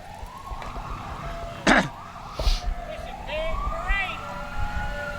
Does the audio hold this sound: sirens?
yes